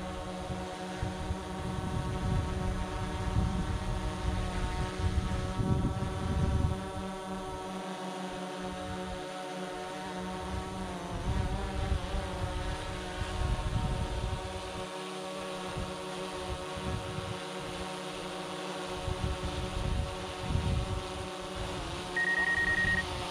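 A DJI Mavic 2 Pro drone flying in sport mode gives a steady, droning motor whine that shifts in pitch as it maneuvers, fairly consistent throughout with no talking.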